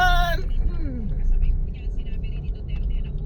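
Road traffic on Mindanao Avenue with a truck about to turn, a steady low rumble of engines close by, with someone talking over it and a brief whistle-like tone at the start.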